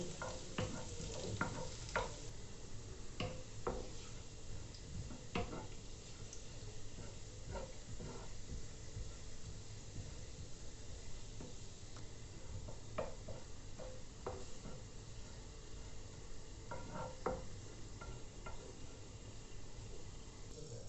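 Garlic cloves sizzle steadily in hot oil in a pan as they turn golden, with occasional soft stirring clicks and scrapes over a constant frying hiss, close and moderately loud, no voices.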